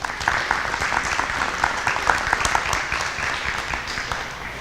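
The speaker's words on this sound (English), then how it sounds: "Let's give them a round of applause" A room at a Maryland State Firemen's Association executive committee meeting gives a sustained round of applause for the hosting volunteer fire department, dense even clapping from many hands at moderate distance.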